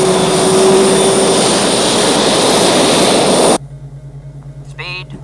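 A jet aircraft makes a low-level pass with a loud, roaring engine that cuts off abruptly, leaving a low hum as a voice briefly speaks at the end.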